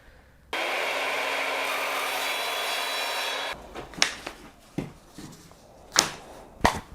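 A saw cuts wood to trim parts for DIY Shaker cabinet doors, with about three seconds of steady, close rasping followed by several sharp knocks and scrapes as pieces are handled.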